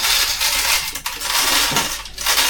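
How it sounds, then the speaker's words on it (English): Coffee beans pour into the plastic bean hopper of a DeLonghi Magnifica Plus espresso machine, a dense rattling patter running steadily for a couple of seconds with a brief dip midway, close and fairly loud. "Oh, the sound of bean on plastic."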